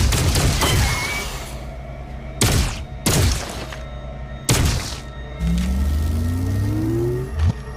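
Sharp, loud gunshots in the VR game Memoreum, fired at yellow containers: a burst of shots, then three separate spaced blasts, followed by a low rising droning tone near the end, with no talk.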